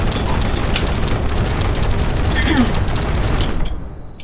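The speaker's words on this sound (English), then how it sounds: "It's just an auto shotgun." An auto shotgun in the People Playground game fires in a dense, continuous burst of loud rapid blasts that cuts off abruptly near the end, leaving a faint ringing tail.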